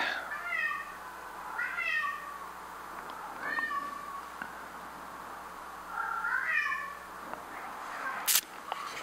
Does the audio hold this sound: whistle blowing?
no